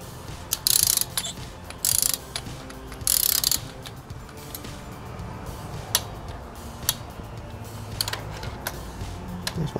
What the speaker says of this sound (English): that's what I'm going to torque my spark plugs to